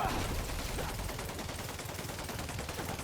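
Dense, continuous rapid gunfire in the video game Marvel's Spider-Man Remastered fills the whole stretch, loud and close, with booming low rumble beneath overlapping shots.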